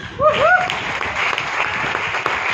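Applause from an audience at a motivational speech, a broad steady patter of clapping lasting the whole moment, with a brief whistle-like voice or squeak near the start.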